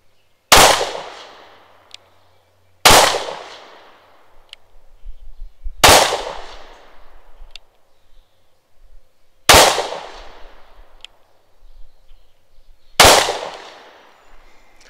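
Five sharp S&W Shield Plus pistol shots in 30 Super Carry fired from 15 yards, each a loud crack with a decaying tail, spaced a few seconds apart, with no talking.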